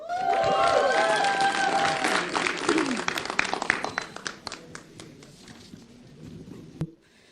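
Audience at a stand-up comedy show applauding to welcome the next performer, a burst of dense clapping that thins into scattered claps and fades out, with voices mixed in.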